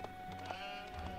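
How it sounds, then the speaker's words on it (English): Sheep bleat in the Age of Empires 4 video game, a pair of short, quiet bleats in quick succession within a brief moment. "that's an enormous amount of sheep"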